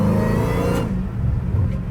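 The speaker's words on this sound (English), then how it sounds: "when the exhaust is like not open, it sounds way like it's not as scary." Dodge Hellcat Redeye with straight-piped exhaust, valves closed, gives a loud, close engine drone with rising rev and whir, steady throughout with no talk.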